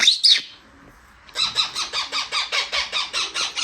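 A bird gives a short, bright call, falls quiet for about a second, then repeats a sharp chirp in a quick, even rhythm, roughly a dozen times, close and clear.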